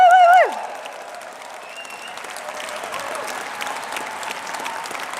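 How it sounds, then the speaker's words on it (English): Applause from a graduation ceremony audience at a Brighton degree ceremony, a broad steady wash of clapping that follows a short loud vocal whoop and carries on evenly throughout. "can we have a big round of applause for everyone here today"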